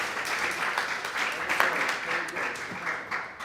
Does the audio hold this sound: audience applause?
yes